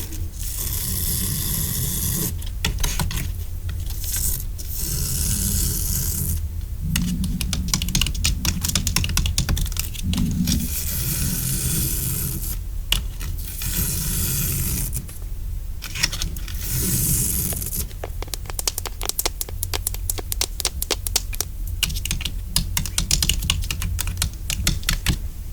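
Small plastic keys on a fidget board toy are clicked in quick, uneven bursts, close and crisp, with brief pauses between runs of tapping and no talking.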